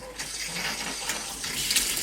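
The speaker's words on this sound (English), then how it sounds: "Let's go ahead and see what happens when I turn the sink on." Water runs from a kitchen sink faucet fed through a newly installed under-sink filter, a steady close gushing stream that continues for a couple of seconds.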